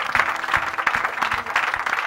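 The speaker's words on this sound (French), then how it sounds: "On applaudit fort notre Père." A church congregation claps loudly for its pastor, a quick run of sharp, uneven hand claps over about two seconds, close and lively.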